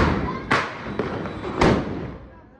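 Diwali firecracker bombs set off one after another on a city street, two sharp nearby bangs about a second apart with a softer pop between them, each trailing into a noisy rumble.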